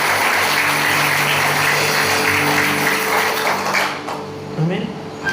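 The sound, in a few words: congregation applause in church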